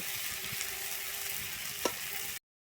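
Khesari greens sizzle steadily in a pan for a simple village vegetarian dish, a soft even frying hiss with a brief stirring scrape near the end before it cuts off.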